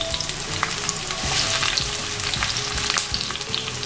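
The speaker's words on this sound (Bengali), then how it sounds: "একটু তেলের সাথে ভেজে নিতে হবে। এরপর এর মধ্যে দিয়ে দিচ্ছি প্রায় 2 কাপের মতো পেঁয়াজ কুচি" About two cups of chopped onions fry in oil with whole spices in a pan for beef bhuna. A dense, close crackle and sizzle runs throughout, with scraping stirs and no talk.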